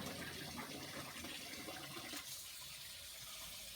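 Habanero chillies being washed under running water: a close, continuous splashing rush that fills the first two seconds, then eases to a softer steady trickle, with no voices.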